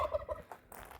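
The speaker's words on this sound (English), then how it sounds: "there goes the turkey to join them" A farm turkey gobbles near a coop in a rapid, rattling burst, then fainter follow-up calls over a background of outdoor noise.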